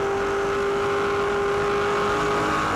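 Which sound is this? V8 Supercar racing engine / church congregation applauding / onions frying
V8 Supercar racing engine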